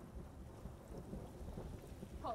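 Thunderstorm in a disaster action film, with a steady wash of heavy rain and low rolling thunder rumbling throughout, fairly quiet and distant, no voices.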